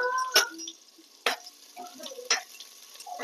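Chopped onion sizzles in hot oil inside a pressure cooker, with soft crackling broken by a few sharp clinks and scrapes of stirring at irregular intervals, close and moderately loud.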